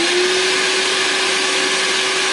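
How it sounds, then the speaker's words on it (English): An Evolution R11VAC-Li cordless wet and dry workshop vacuum runs continuously, a loud, steady motor whine with a strong rushing airflow hiss and an unchanging pitch throughout. "Now I'm just going to demonstrate the volume when I turn the machine on."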